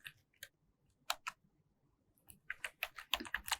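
Quiet keystrokes on a computer keyboard, sparse at first and then quickening into a run of close clicks and taps, with no talk.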